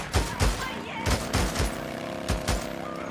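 Gunfire in the video game Days Gone: several loud, sharp shots in uneven bursts, booming up close, with game voices mixed in among them.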